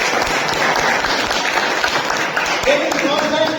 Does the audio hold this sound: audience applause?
yes